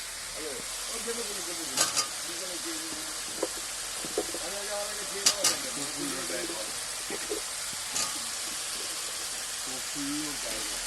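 Chandramukhi potatoes sautéing in a pan with spice masala, giving a steady broadband sizzle broken by occasional louder stirring scrapes, with a faint voice murmuring in the background.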